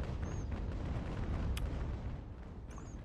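Naval cannon fire in Ultimate Admiral Age of Sail, a steady rumble of distant booming broadsides blending into one another, with a couple of sharper cracks standing out above the roar.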